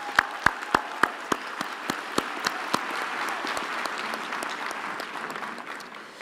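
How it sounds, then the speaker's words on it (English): At a university autumn graduation ceremony, a few sharp, evenly spaced claps near the front lead into broader audience applause that swells into a steady, dense patter and then slowly fades. "I think we can give her a hand of applause."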